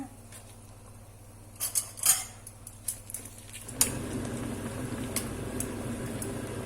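Vegetables such as broccoli and Chinese cabbage blanched in a pot of boiling water, with light clinks of utensils and pot at first, then a steady, close bubbling roil that fills the rest of the clip.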